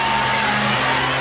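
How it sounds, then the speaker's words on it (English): Crowd noise at a Texas vs. Oklahoma college softball championship game, a broad loud roar and cheer from the stadium filling the brief moment without letup. "You heard the roar of the crowd."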